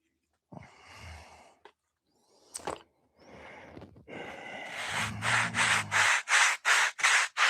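A wooden piece is sanded to round its nose so it fits a routed round recess: scattered rubbing and knocks, then a run of rhythmic back-and-forth gritty strokes, close and fairly loud.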